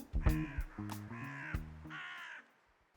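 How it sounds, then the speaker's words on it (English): Several crows in Troy, New York caw in a quick series of harsh calls, close and fairly loud, about four distinct caws over a few seconds. "a group of crows is called a murder"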